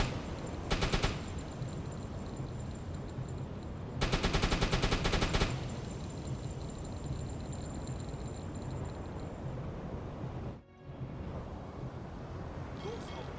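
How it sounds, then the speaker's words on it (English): Submarine deck gun firing in a naval warfare game, two loud bursts of rapid shots near the start and middle over a steady rumbling background of wind and sea. "Gunther von Gunther shoots deck gun."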